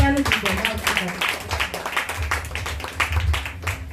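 Church congregation clapping during a sermon, a dense stretch of rapid, continuous applause with voices and shouts mixed in, fairly loud and close.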